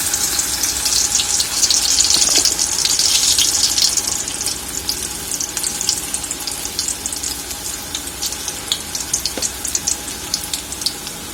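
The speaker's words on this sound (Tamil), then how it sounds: "இப்போ நம்ம இதை ஃப்ரை பண்ணி எடுத்துடலாம். விரவி வச்சுக்க பாவக்காய் இதில் சேர்த்துக்கலாம்." Slices of bitter gourd fry in a pan with a continuous sizzle and bubbling hiss, louder at first and then settling into a steady crackle with occasional sharp pops.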